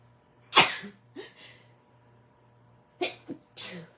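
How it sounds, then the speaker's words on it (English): A loud, sharp sneeze bursts out near the start, followed by softer breathy sounds and a second pair of quicker sneeze-like bursts later; no talking. "I'm going to sneeze, I can feel it coming on."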